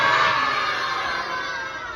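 A crowd of children roars together in imitation of a dinosaur, a loud, sustained massed shout that swells at the start and gradually fades over two seconds.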